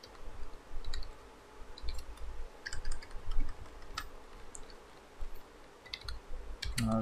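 Rapid clicking of computer keyboard keys as text is typed in Photoshop, irregular bursts of close, crisp taps with short pauses, steady low room hum beneath and no speech.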